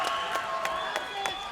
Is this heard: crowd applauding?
yes